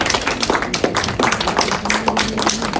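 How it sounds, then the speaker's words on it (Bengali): An audience claps at a Doctors Day honouring ceremony in Krishnanagar, a steady burst of close, loud, overlapping handclaps filling the room with little talk. "জোরে হাততালি দেবেন প্রত্যেকে।"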